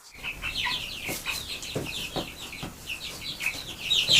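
Young chicks being moved into a spacious new coop in the countryside, with bright high chirps and soft clucks repeating close by throughout, set against faint rustling.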